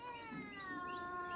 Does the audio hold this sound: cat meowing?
yes